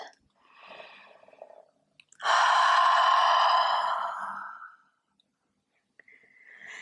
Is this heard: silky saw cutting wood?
no